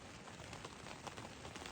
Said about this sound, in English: I'm going to lie here and read for a little while and just listen to the rain.